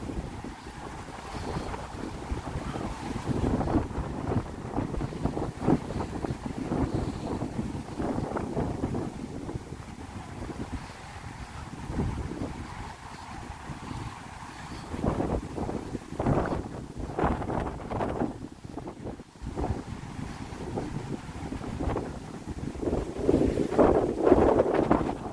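Strong wind buffets the microphone in heavy, gusting roars by the water in a Brooklyn park, rising and falling throughout with a low rumble underneath and no talking.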